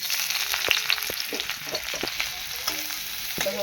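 Onions fry in a pan for vegetarian chowmein, giving a steady loud sizzle with occasional clinks and scrapes of a utensil stirring.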